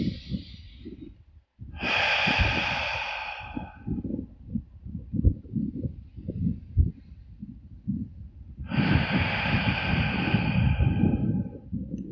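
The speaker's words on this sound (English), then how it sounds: "a breath in for Aum." During a meditation, a deep breath is drawn in through the nose as a close, airy inhale with a slight snort, followed by softer, quieter breathing and then a second long intake; nobody speaks.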